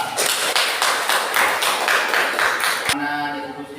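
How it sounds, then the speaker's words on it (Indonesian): A classroom of students applauds a presenting group, dense steady clapping that carries on for nearly three seconds and then stops abruptly, leaving a quiet hum. "Yuk kita kasih aplaus untuk kelompok 4."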